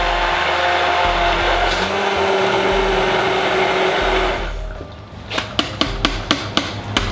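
A blender purees soup, running as a steady loud motor whir for several seconds before cutting out and giving way to a series of sharp, evenly spaced knocks.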